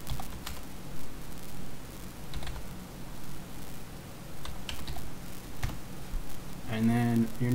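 Computer keyboard keys clicking in short irregular bursts as a password is typed at a Linux terminal, with a louder cluster of keystrokes near the end over a low room hum.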